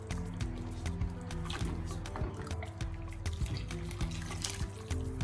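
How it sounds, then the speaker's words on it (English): Water poured into a simmering pot of groundnut soup with chicken, liquid sloshing, trickling and dripping up close over a low hum, with no voices. "Then I'll add more water."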